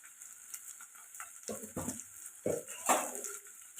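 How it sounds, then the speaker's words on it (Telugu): Chopped tomatoes with salt frying in a pan for egg curry, a soft sizzle under a few clinks and scrapes of a utensil stirring against the pan, close and moderately loud. "ఇప్పుడు కలుపుకొని టమాటా మెత్తబడిన దాకా ఫ్రై చేసుకోవాలి"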